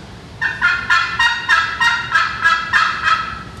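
A turkey box call struck with an aluminum striker gives a rapid series of about eight sharp, raspy yelps in an even rhythm, close and loud.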